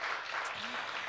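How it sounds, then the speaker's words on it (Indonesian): A church congregation at a worship service claps for Jesus Christ, a soft, even patter of hands heard at some distance and sustained through the whole moment, with no speech over it. "Yang mau beri tepuk tangan yuk buat Tuhan Yesus Kristus."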